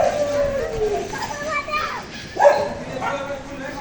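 A dog barks sharply once or twice on a busy outdoor walk, mixed in with children's chatter and adult voices close by.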